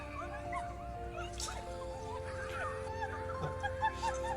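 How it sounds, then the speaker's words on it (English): A schnauzer whimpers and yips excitedly on being reunited with its owner after two years, high thin whines and squeaks over a low background rumble, fairly faint and continuous. "A schnauzer named Casey hasn't seen her owner in 2 years"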